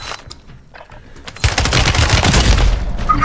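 Video game gunfire: after a quieter stretch of scattered pops, a loud, continuous burst of rapid automatic fire erupts and keeps hammering close by until the end.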